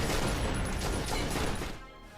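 Sustained burst of gunfire sound effect, a hail of bullets strafing an alien during a sci-fi tabletop role-playing session, dense and loud for nearly two seconds before dropping to a quieter rumbling tail.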